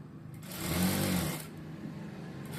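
A sewing machine stitches a plain blouse in one steady burst of about a second, fairly close and clear, starting and stopping against a quiet room.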